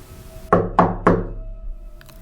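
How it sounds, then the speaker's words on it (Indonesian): Three heavy, evenly spaced thuds of a fist pounding on a door, close and loud in a quiet room, followed by faint settling noise. "Tiba-tiba pintu digedor."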